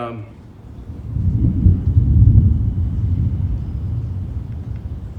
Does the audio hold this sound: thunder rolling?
yes